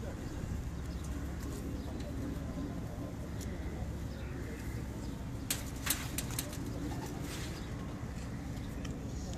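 Pigeons kept as a hobby on a rooftop flutter and coo under a steady background of voices, with a sharp burst of wing flapping in the middle.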